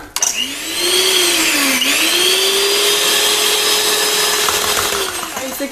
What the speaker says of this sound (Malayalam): ഇത് കുറേ നേരം ബീറ്റ് ചെയ്താലേ സ്റ്റിഫ് ആവുള്ളൂ